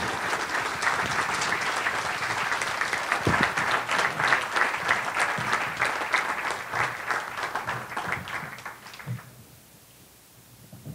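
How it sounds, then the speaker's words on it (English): Sustained, dense applause from an audience at the National Athletic Trainers awards brunch honoring a sports medicine reporting award winner, steady for about nine seconds before fading out. "I'd really appreciate you guys putting your hands together and helping me congratulate this year's NATA Excellence in Sports Medicine Reporting Award to Morgan Fogarty"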